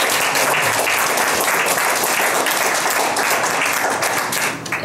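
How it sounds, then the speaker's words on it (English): Sustained applause from an audience at a veterans' outreach presentation on homeless military veterans, dense steady clapping filling the room from start to finish with no talk over it. "round of applause for the time"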